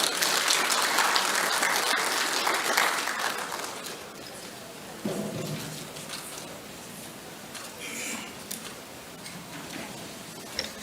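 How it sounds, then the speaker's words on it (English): An audience applauds a government minister after a census results presentation, a broad wash of clapping that thins after a few seconds into scattered claps, with some faint background noise. "Let's give him another generous round of applause."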